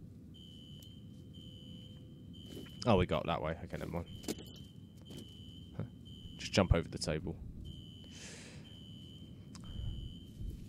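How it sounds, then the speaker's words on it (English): A steady electronic alarm tone sounds in the video game F.E.A.R., pulsing in repeated beeps at moderate volume while people talk over it. "Alarm."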